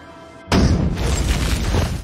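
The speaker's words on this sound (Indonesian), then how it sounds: "Sebuah ledakan mengawali jalannya pertempuran." A loud explosion in the action film 13 Hours bursts in suddenly after a quiet hum, then rumbles and crackles on with broadband debris and roar for well over a second.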